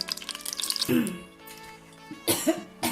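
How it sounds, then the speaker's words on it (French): A few short coughs, brought on by heating red palm oil, break out near the microphone amid faint sizzling and kitchen clatter, the second burst louder than the first. "Ça fait tousser."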